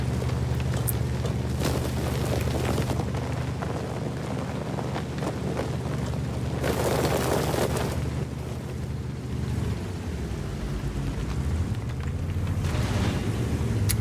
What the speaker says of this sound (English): they made this gun sound like low caliber